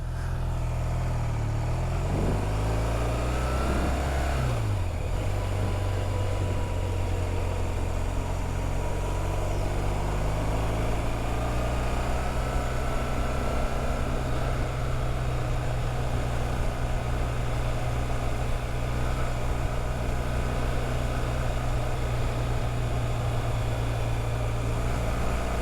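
A motorcycle ridden along a narrow country road near Chatsworth gives a steady, close, low droning engine note, its pitch shifting briefly near the start before settling into a constant hum with no talk.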